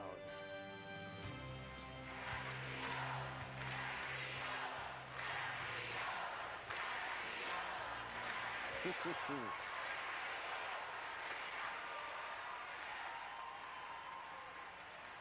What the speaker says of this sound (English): And then listen to the crowd.